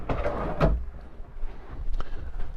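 A soft-close RV drawer on solid steel ball-bearing rollers slides and settles with a muted thump, faint and close, followed by light handling noises.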